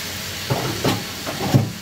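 Constant hissing steam from water boiling in a steamer for steaming fish and choy sum, with a few soft bubbling surges and gentle clinks rising above the steady rush.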